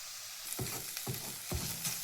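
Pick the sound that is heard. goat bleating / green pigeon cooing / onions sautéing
onions sautéing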